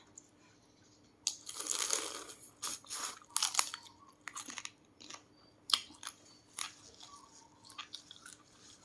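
Blue crab shell cracked and chewed with spicy papaya salad, giving a run of close, loud crunches and bites in irregular bursts with brief wet squishes between them, no talking.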